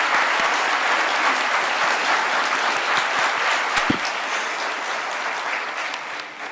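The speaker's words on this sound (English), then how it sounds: "I really ask that you all give them a big round of applause for everything they've done" Sustained applause from a large audience at a national gathering on unmarked burials in Montreal, dense and steady, fading slightly toward the end.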